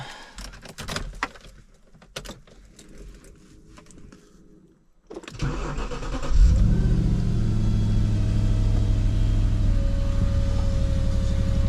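Clicks and a door-like clunk, a pause, then the cold engine of a 2007 Audi RS4 Avant B7 cranks and catches, settling into a loud steady idle close by.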